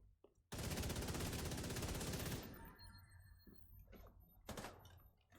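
A rapid burst of automatic gunfire from the player's weapon in The Division 2, loud and continuous for about two seconds, followed by quieter clanks, a thud and a brief later shot.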